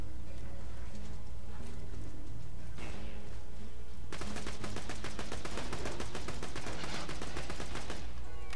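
Gunfire from a weapon in the game Borderlands 2 rattles in dense rapid bursts, sparse shots at first and then a long loud continuous automatic stream, with no talking.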